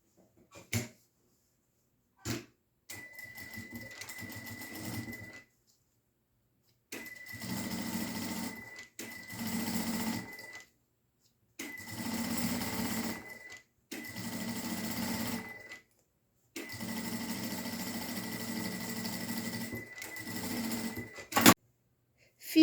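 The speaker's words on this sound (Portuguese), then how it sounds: "nós vamos colocar direito com direito, vamos alinhar e fazer uma costurinha" A sewing machine stitches a seam on a fabric box, running in steady humming bursts of a few seconds each, separated by short pauses and faint handling clicks, close and without speech.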